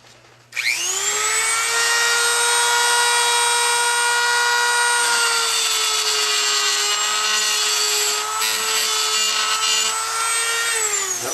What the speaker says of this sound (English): I'm going to scribe it a little bit.